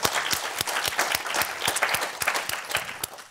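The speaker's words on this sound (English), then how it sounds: "So I would like to give them a round of applause." Conference audience at a forum applauding, close, dense clapping with sharp individual claps throughout, no talk.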